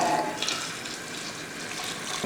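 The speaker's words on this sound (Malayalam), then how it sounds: "തിളപ്പിച്ച് വെച്ചിരിക്കുന്ന വെള്ളമില്ലേ, ആ വെള്ളം ഇതിനകത്ത് ഒഴിക്കും" Boiled water pours into a pot holding chicken for meat rice, a brief close splashing gush that fades into a steady watery rush, with no voices.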